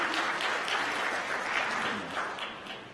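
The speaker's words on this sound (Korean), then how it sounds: "여러분들 환영의 박수 부탁드리겠습니다" Congregation applauding in welcome for a pastor at a Sunday church service, steady sustained clapping from many hands filling the room for the full stretch, with no talking.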